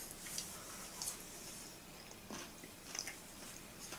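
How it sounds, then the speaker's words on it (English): Someone crunching a mouthful of garlic after a Korean meal: a few quiet, crisp bites spaced apart, close and soft over a faint background hiss. "Let them crunch that garlic."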